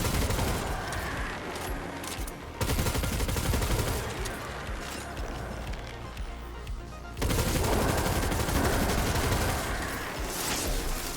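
The Tarrabah submachine gun in Destiny 2 fires in long, rapid automatic bursts, a loud, dense rattle with one brief break before the firing resumes, with no talking.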